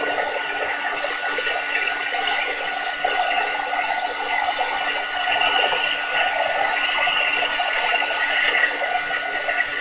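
An embossing heat gun blows across paper beads, giving a steady close-up whooshing hiss with a faint motor hum that continues evenly for the whole stretch, with no talking.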